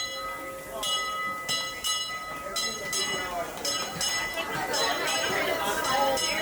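A Disneyland Railroad train runs at a busy park station, with rhythmic clanking and metallic ringing under a crowd's chatter and a nearby voice.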